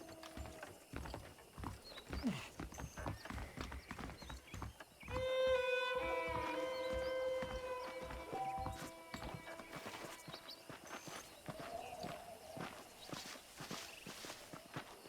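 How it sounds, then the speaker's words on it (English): Horses in the Red Dead Redemption video game clip-clop along at a steady walking pace, with a clear whinny partway through and soft mechanical clinks and ambient game sounds around the hoofbeats. "The horses are saddled up over here."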